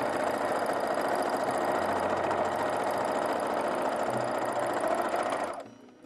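A sewing machine running steadily for several seconds as it rough-stitches a garment sleeve, a close, continuous rapid mechanical whirr and clatter that stops abruptly near the end.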